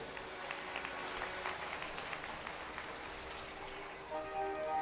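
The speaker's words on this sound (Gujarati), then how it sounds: "તાળીઓના ગડગડાટથી વધાવી લઈએ." Steady, distant audience applause at a religious katha gathering in a large crowd, a faint continuous wash of clapping with no pauses.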